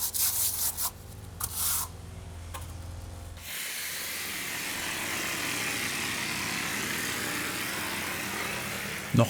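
Clay plaster is spread and rubbed over reinforcing mesh on a wall, making close, gritty scraping strokes at first that then settle into a steady, continuous rough hiss.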